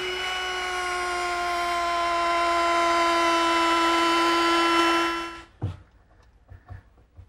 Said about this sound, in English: I just set my router up with a chamfering bit